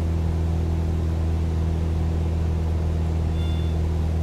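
A simulated airplane engine held at full throttle in Microsoft Flight Simulator 2020, a steady, unbroken low drone with strong constant hum tones, heard alone without any talking.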